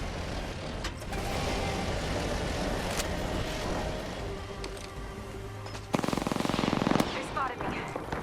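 Rapid automatic gunfire from a battle royale-style video game, a dense continuous rattle over a busy game soundscape, with a louder close burst of shots near the end.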